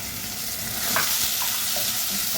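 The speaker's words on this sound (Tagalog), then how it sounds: "Nagigisa na tayo ng bawang, sibuyas." Garlic and onion sautéing in a pan for a kamias sinigang with fish, a loud, dense, close hiss of sizzling that holds steady throughout, with a faint scrape in the middle.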